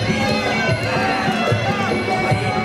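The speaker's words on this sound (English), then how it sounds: "Oh, and the crowd. Yeah, they loved it there. You can hear them." A boxing crowd cheering and shouting in a dense, continuous roar of many voices, loud and close, with no single voice standing out.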